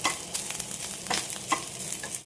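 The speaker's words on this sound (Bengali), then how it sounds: "এটাকে ভালো করে ভেজে নিই।" Taro leaves fry in hot oil in a pan with a close, steady sizzle, while a spatula scrapes and stirs in quick repeated strokes over roughly two seconds.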